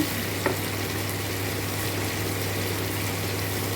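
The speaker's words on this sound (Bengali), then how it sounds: "ভালো করে ভেজে নিচ্ছি" A constant crackling sizzle of ground garlic, ginger and green chilli paste frying in a pan, close and even, with a single brief clink near the start.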